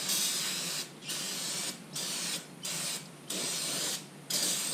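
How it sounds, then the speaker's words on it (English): A close brake cleaner spray can hisses in about six sharp bursts separated by brief silent pauses, used on a trailer axle. "I like this because it's in a spray can"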